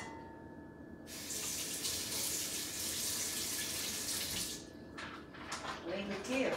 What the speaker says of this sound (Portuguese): Vou botar um pouquinho de água.